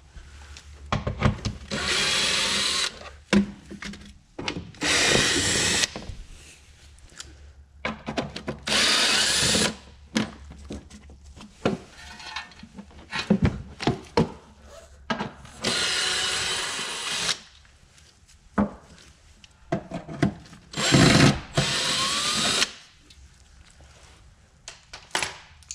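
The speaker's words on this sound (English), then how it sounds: "I'm going to start by taking all these 8mm screws out." A power drill unfastens 8mm screws from the wheel well of a BMW E46, whirring in repeated loud bursts separated by brief pauses, with faint rattles between them.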